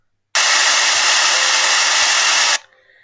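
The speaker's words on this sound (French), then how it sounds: "Oui, je vais cliquer sur le type de bruit, un blanc" Steady, loud white noise generated in Audacity, a hiss lasting a little over two seconds that starts and stops abruptly, followed by faint low background hum.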